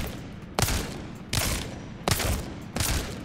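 A weapon fires at a target in Apex Legends in four short bursts spaced under a second apart, each a sharp crack with a brief tail, loud and close, with no voices.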